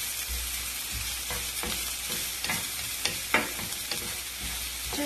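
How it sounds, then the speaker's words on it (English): Shallot and three cloves of garlic fry in a pan while being stirred, making a constant sizzle broken by repeated scraping strokes of the utensil, close and fairly loud. "And just stir this until it is fragrant."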